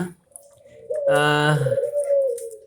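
A white turtle dove gives a single loud, drawn-out coo, near and clear against a quiet background.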